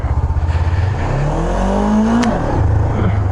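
Honda CB500F beginner motorcycle accelerating in second gear for a wheelie attempt, close engine chugging at idle, then a rising rev that peaks and cuts off sharply before it settles back to a throb.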